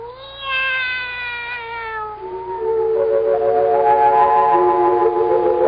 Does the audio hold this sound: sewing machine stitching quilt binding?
no